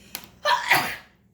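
A single sharp human sneeze, close and loud, a short intake followed by a bright burst that trails off within a second.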